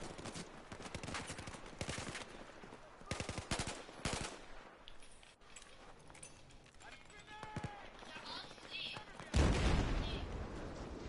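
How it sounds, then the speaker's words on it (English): Battlefield 4 gameplay with rapid machine-gun bursts and scattered gunshots, then a big booming explosion near the end, loud and close over continuous battle noise. "That was a big explosion."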